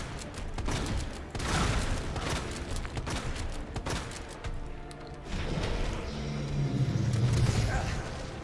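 Gunshots in the survival horror game Resident Evil 2, a run of sharp repeated shots and heavy impacts mixed with rumbling, with someone talking over parts of it.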